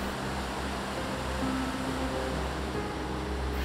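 Water pours over Jiktang waterfall, a stepped basalt fall on the Hantan River, as a soft, steady, even rush with no other sounds.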